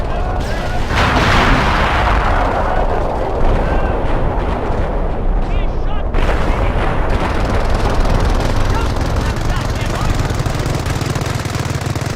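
Artillery strike in the World War II strategy game Company of Heroes, fought against a German attack: a dense, continuous roar of explosions and gunfire that stays loud and unbroken throughout, with a sharp fresh burst about halfway through.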